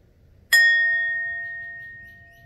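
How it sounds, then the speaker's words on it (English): A single meditation bell is struck once to open a practice session, giving a bright metallic strike followed by a long, pure ringing tone that slowly fades, alone in a quiet room. "preparing to hear the sound of the bell to begin our meditational practice for today"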